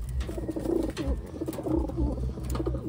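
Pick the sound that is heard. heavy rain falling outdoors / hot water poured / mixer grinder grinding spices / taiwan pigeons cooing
taiwan pigeons cooing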